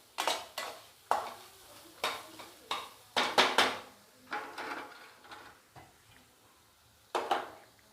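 A spoon scrapes and stirs carrot and coconut in a cooking pan, making a series of short, fairly quiet metallic scrapes and clinks in an uneven rhythm with brief pauses between them.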